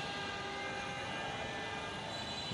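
A steady, low rumbling hum of a Dhaka metro rail train in motion, constant and fairly quiet, with no voices.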